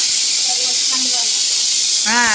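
Steady loud steam hiss, then a pressure cooker whistle shrieks in with a wavering, rising tone near the end, while potatoes cook inside.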